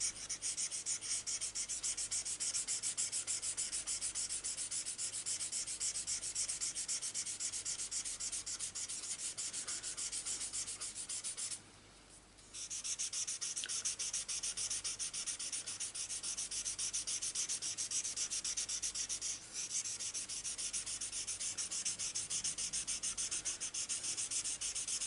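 A purple marker roughly colouring over stamped flowers on paper gives a steady, close scratchy rubbing, continuous and fairly quiet, with one brief pause partway through and no voices.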